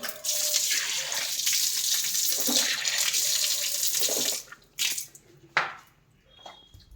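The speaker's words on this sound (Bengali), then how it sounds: "আমি একটু মুখটা ধুয়ে নিই" Tap water runs steadily from a faucet into a sink while someone washes their face, a continuous close splashing that stops after about four seconds, followed by a few brief drips and splashes.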